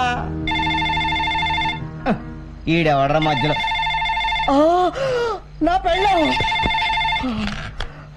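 A telephone bell rings repeatedly in loud, steady bursts during a Telugu comedy film scene, with people talking over and between the rings.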